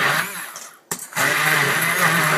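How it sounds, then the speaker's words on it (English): A stick blender purees warm cooked onions, a loud continuous motor whine that cuts out briefly and then resumes steadily, close and alone. "Take out your trusty stick blender. Be careful because this is still warm, and it's going to be loud."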